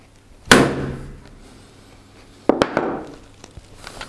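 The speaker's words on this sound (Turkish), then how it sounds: "Şimdi çekiçle vuruyorum." A hammer strikes a hard hat shell twice, two sharp loud impacts about two seconds apart, each followed by a short ringing decay, with small clatter after the second blow.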